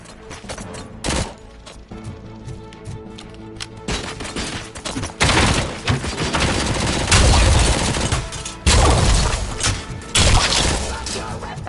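A loud volley of gunfire in a dense, chaotic barrage, with rapid shots, crashes and shattering impacts building into sustained bursts, and voices shouting amid the shooting.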